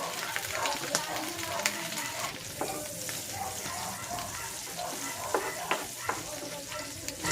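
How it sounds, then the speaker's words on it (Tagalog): Onion sautéing in butter in a pan for tuna and tofu sisig, a continuous close sizzle with stirring scrapes and small clicks. "Igigisa ko na dito itong sibuyas."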